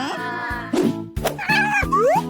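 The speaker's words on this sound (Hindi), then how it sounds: "अरे देखो कितनी प्यारी बिल्ली है।" A cat meows several times in quick succession, close and clear, with bright, wavering cries and bouncy cartoon-like accents mixed in.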